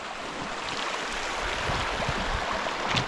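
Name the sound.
Teton Creek flowing water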